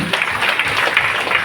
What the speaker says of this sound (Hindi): एक बार ताली बजाते हैं जो आपके बीच की मिलावटी है